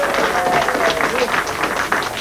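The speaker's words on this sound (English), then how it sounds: "Applause for Jeremy." A studio audience at a game show claps steadily for a couple of seconds, a loud, even patter of many hands with a faint tonal sweep passing under it.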